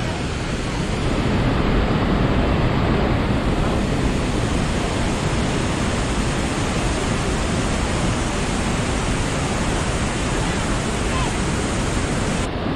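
Huangguoshu Waterfall in Anshun, Guizhou, one of the world's great waterfalls, sends up a loud, unbroken roar of falling water and spray that fills the whole stretch at an even level, with no break or change.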